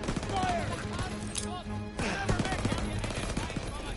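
Rapid bursts of gunfire from Call of Duty WW2 crack over dense battle noise, close and continuous, with voices shouting beneath the shooting.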